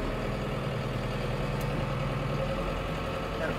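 The engine of a Japanese cattle feed chopping machine runs at roughly 400 rpm, a steady, even mechanical hum and knock held close and unchanging throughout.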